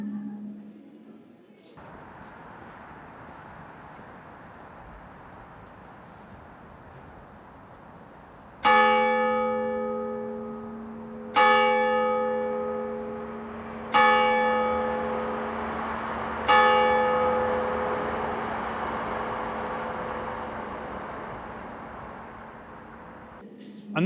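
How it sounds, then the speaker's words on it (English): A church bell in Sheffield strikes four times at steady intervals, each ring loud and resonant with a long decaying tail, over a faint ambient hiss. "That church bell was completely diegetic audio."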